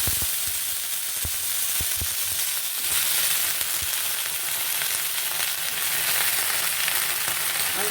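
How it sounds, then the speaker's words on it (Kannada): Cut eggplant fries in oil in a pan for an Andhra-style eggplant tomato chutney, giving a loud, continuous hiss and sizzle with a few scattered low knocks of stirring, and no talking. "ಇದಕ್ಕೆ ಸ್ವಲ್ಪ ಎಣ್ಣೆ ಹಾಕ್ಕೊಂಡು ಚೆನ್ನಾಗಿ ಫ್ರೈ ಮಾಡ್ಕೊಳ್ಳೋಣ."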